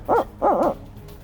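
An owl-hooting call blown by a turkey hunter while scouting the woods before the season, two close, loud hoots, a short one followed by a longer double-note hoot, heard alone.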